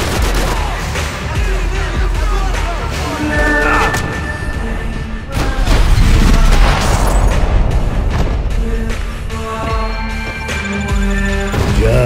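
Heavy grenade blasts and gunfire in the Max Payne 3 shooter game, set in an airport departure lounge: repeated loud booms and crashes layered over rapid shots, sustained and dense throughout.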